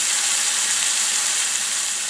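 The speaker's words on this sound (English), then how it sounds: "we are going to add our roast to the pot, and we're going to sear each side for roughly 3 minutes" A beef roast sears in a hot pot with a constant, dense hiss of sizzling fat and juices, steady and fairly loud with no pauses.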